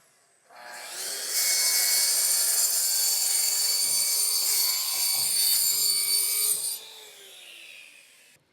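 A carbon fiber panel for a camper interior is cut with a power tool, a steady, loud, harsh rasping whine that runs for about five seconds before cutting off, with no talking.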